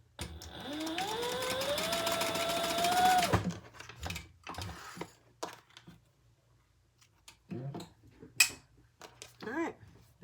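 A sewing machine runs in one continuous rising whir for about three seconds while basting the side seams of a small crossbody bag, followed by quieter handling clicks and rustles.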